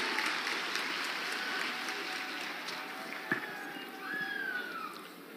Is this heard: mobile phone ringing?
no